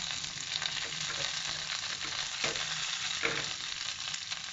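Curry leaves dropped into hot oil with mustard seeds and dried red chillies, crackling and sizzling loudly and continuously in a pan, with sharp spits and pops over a steady frying hiss.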